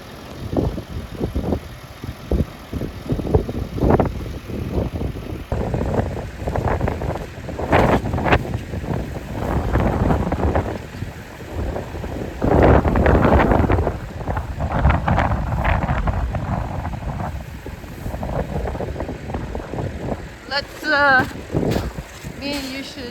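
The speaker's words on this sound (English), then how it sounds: "It's not fancy, but it's holding up nicely in this wind." Strong winter wind gusts across a farm at well below freezing, buffeting the microphone in loud irregular rumbling blasts that rise and fade, with voices talking intermittently.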